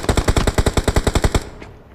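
Automatic gunfire in PUBG Mobile rattles out as one rapid, even burst of about a dozen loud shots, then cuts off into a fading tail.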